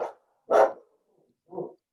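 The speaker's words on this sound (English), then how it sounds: "Somebody's dog is barking." A dog barks a few times at a distance in a quiet room, short separated barks with gaps between them, fairly faint, with no talking.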